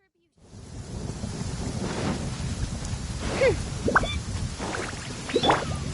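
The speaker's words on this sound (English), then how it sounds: "Hark! 'Tis thundering" A thunderstorm in Inazuma in Genshin Impact: a steady roar of rain and rumbling thunder swells in after a brief silence, with a few short tonal chirps rising over the wash.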